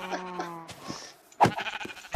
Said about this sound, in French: Il y a beaucoup plus de moutons dans notre survie.